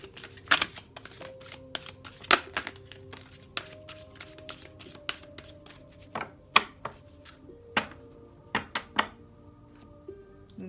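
Map cards being shuffled and tapped by hand, a steady run of close, sharp riffles and knocks at an uneven rhythm, with faint background hum and no talk.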